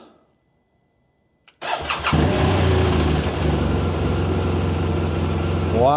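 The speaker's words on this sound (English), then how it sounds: "you're going to hear it, how many times it cranks over, when it starts" A BMW R 1200 RT motorcycle, started after nine months in storage, cranks for a moment after a near-silent pause, then catches and settles into a steady, loud idle close by.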